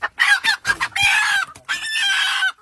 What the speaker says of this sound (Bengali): আর তেজ দেখুন মুরগিটার, দেখুন দেশি মোরগ